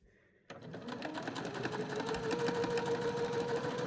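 A sewing machine runs a long temporary stitch at length setting 4 along the edge of skirt fabric, joining the skirt and lining waistlines. After a brief quiet moment it starts and keeps up a steady, close, continuous whirring hum.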